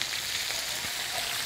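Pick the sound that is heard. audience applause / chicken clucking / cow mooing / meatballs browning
meatballs browning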